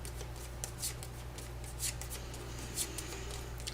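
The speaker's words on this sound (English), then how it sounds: "And then we shuffle." Playing cards are shuffled during a cooperative card game, giving soft, quiet riffling and rubbing bursts over a steady low hum, with no talking.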